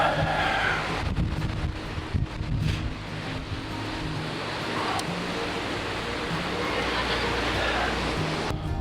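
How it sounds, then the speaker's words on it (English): Strong wind buffets the microphone in continuous gusts at the Normandy seashore at high tide, with a low roar of surf underneath and no talking. "It's very windy."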